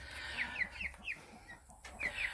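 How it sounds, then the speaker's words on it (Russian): Liven breed hens cluck and make soft, repeated croaking calls at close range, several birds overlapping in an irregular rhythm over quiet background. "Это ливенские."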